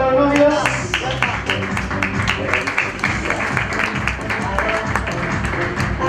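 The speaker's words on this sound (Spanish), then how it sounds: "un gran aplauso para los novios" Wedding guests clap for the newlyweds, a dense rhythmic patter of many hands that holds steady and fairly loud for several seconds, with a few voices underneath.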